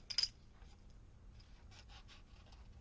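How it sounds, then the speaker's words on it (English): Scissors fussy-cut paper close up, a sharp snip at the start followed by faint, scattered snipping and rustling in a quiet room. "I'm going to fussy cut that out"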